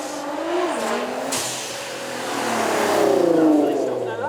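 A Nissan GTR supercar sets off on a demonstration run at the Beaulieu Supercar Weekend, its engine note rising as it accelerates away with audible gear changes, heard over crowd noise and commentary.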